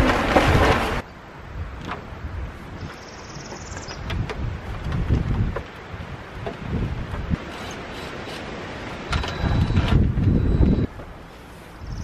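Gusty wind blows outdoors near a greenhouse, buffeting the microphone in strong rumbling surges that rise and ease over several seconds.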